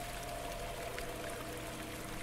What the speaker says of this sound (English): A lot of water.